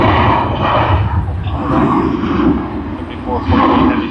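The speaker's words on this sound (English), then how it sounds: "Another Virgin departed" A Virgin jet airliner departs Sydney Airport, its steady broad engine roar filling the scene at close-to-moderate distance, rising and easing slightly over a few seconds while a voice talks over it.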